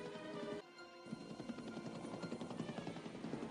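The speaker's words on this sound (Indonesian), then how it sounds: "Helikopter itu juga sempat terbang di atas apartemen mereka." A helicopter flies overhead above an apartment building with a steady, loud rotor chop and engine drone that dips briefly near the start, then continues throbbing, with no voices.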